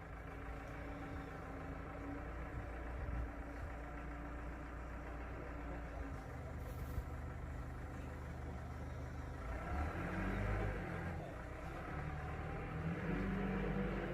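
A forklift drives forward through a driving-test course, its engine giving a steady low rumble that swells a little toward the end, with no voices.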